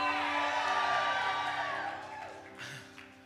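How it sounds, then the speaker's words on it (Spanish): A church congregation at a Spanish-language service raises a loud, sustained collective shout of victory that swells and then slowly fades, with cheering voices blending together. "que griten un grito de victoria."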